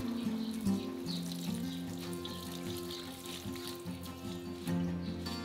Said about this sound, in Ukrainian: Гарно миємо базилік.